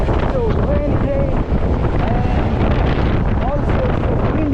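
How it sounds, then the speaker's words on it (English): Strong wind buffets the microphone on a rainy day in the UK, a steady roaring rush filling the whole clip, with a few faint voices underneath. "it's so windy today"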